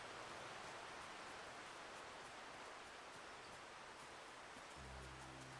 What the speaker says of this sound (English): Do you like the sound of falling water? And the waterfalls?